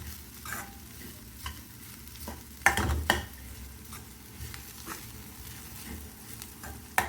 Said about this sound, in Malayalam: നമുക്ക് തേങ്ങ നന്നായിട്ട് ഇളക്കി കൊടുക്കാം